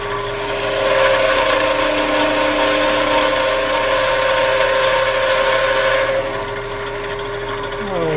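A lathe tool cuts into a spinning wooden snowman ornament, giving a loud, steady rasping scrape for about six seconds before it eases into a quieter hum as the cut stops.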